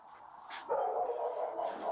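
A dog barks and yips during a police body-camera encounter, a short burst of sharp, fairly close barking over a faint outdoor background.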